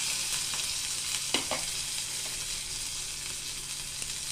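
Mustard seeds and green chilli sizzle in hot oil, a dense, even hiss that runs unbroken and close, with a couple of brief utensil scrapes partway through.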